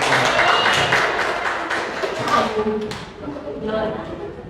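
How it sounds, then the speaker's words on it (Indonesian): Applause from a classroom audience at a university teacher-training session, a dense burst of clapping that is loudest at the start and thins out over a few seconds, with voices talking through it. "Oke, beri tepuk tangan yang meriah."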